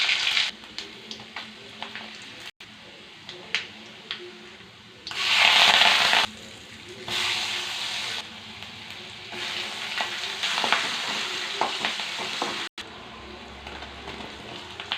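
Tempering spices crackle and sizzle in oil in a pan for a Telugu gongura egg curry, with scraping stirring strokes and a loud burst of frying midway, close and continuous.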